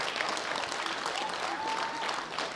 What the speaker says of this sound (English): Big round of applause to these gentlemen.